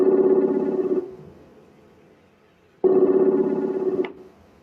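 Two long rings of an electronic telephone trill out, each about a second or more. A quiet pause separates them, and the ringing is loud and near with no talk over it.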